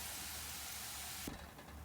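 Slices of bitter gourd sizzle steadily in hot oil, a dense, even hiss that continues unbroken, with a brief soft clatter near the end.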